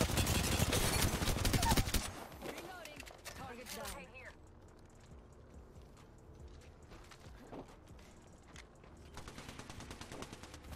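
Rapid automatic gunfire from the Apex Legends video game crackles loudly in dense bursts for the first two seconds, then gives way to quieter scattered shots and game effects.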